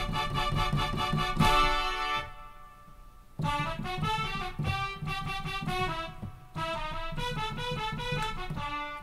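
Bright synthesized brass from a Roland RD-2000 plays a lively melody in short punchy phrases, with a pause partway through before the tune resumes, steady and fairly loud.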